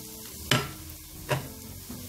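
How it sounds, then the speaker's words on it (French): Onion sizzling in olive oil in a sauté pan, a soft steady fry with two sharper bursts of crackle as the pieces are stirred. "Donc on fait revenir notre oignon quelques instants dans l'huile d'olive"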